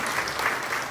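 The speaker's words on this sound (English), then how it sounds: "big round of applause" An audience at a community college tea event in Richmond claps in a brief, steady burst of applause.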